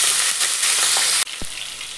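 Cumin and mustard seeds fry in hot oil, giving a loud, dense sizzle close by that cuts sharply in level partway through and then carries on more softly.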